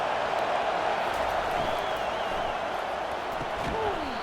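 Constant roar of a football stadium crowd at a Penn State at Ohio State rivalry game, a dense wall of noise throughout with a commentator talking over it.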